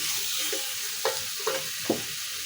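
A wooden spatula stirring koi fish curry with bottle gourd greens in a pan, soft sizzling with a few distinct scraping strokes near the end.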